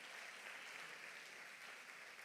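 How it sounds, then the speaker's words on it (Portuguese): A church congregation claps together in a long, sustained applause, a dense even wash of hand claps filling the room with no voices over it. "dar um aplauso demorado para se ouvir lá na sede"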